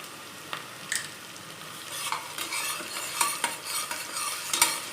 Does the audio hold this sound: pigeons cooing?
no